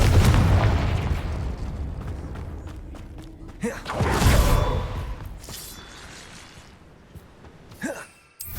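Confringo fire spell explosions in Hogwarts Legacy, a series of heavy booming blasts and whooshing bursts, loud and close, fading into rumbling debris with a few sharp pops later.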